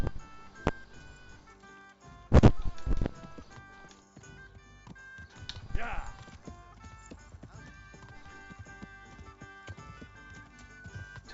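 Steady clip-clop of horse hooves walking at an even pace in a video game, with a brief whinny and a few sharp clicks in between.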